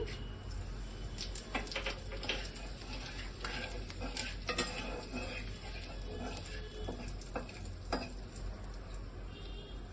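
Whole spices tempered in hot oil for a magur fish curry with cumin paste, a continuous loud sizzle and crackle with occasional clinks of a spoon stirring in the pan.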